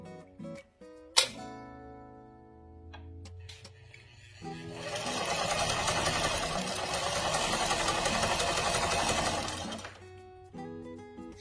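A sewing machine runs a steady stitching burst through slippery knit fabric for a scrunchie, a close, even whirring rattle lasting several seconds, framed by shorter clicks and handling noises before and after.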